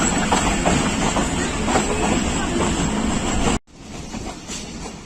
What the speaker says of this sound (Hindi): स्लो स्पीड में अभी स्किप करेगी Rawal express Chaklala railway station.